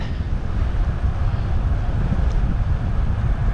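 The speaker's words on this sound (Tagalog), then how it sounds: "lakas na hangin" Strong wind roars and buffets the microphone steadily throughout, a loud low rumble with no voices.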